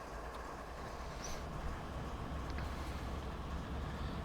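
A freight train in the Train Sim World game begins to move on the Marias Pass line: a low, steady rumble with faint squeals and clanks, continuous and moderately quiet throughout, with no talking.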